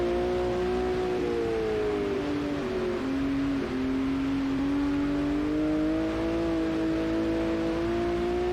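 Formula Vintage open-wheel race car engine in the racing game Automobilista 2, a loud continuous droning roar with pitch sliding down and back up as the revs shift, steady and close throughout.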